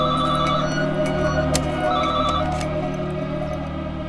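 A telephone rings in a movie scene: a repeated electronic ringtone with a patterned, steady rhythm that keeps sounding over a continuous background hum, heard alone without talking.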